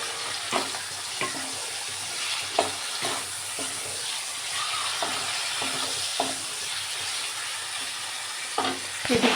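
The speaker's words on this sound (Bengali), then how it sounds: "এখানে ঝালটা ভাজা চাপিয়ে দিয়েছি একদিকে একদিকে মশলা কষানো হচ্ছে" Spice paste sizzling as it fries in a pan, a steady hiss with regular light scraping or stirring taps spread evenly through the clip, no voices.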